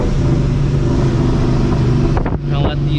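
Supercharged New Edge Mustang GT engine holding a loud, steady low drone from inside the car, with a brief dip near the end as someone speaks over it.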